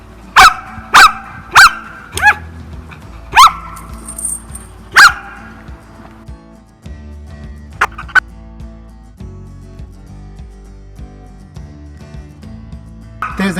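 A white Samoyed barks and growls during an aggression test while muzzled, with six loud, sharp barks in quick succession, then lower growls and a couple of shorter barks, close to the microphone.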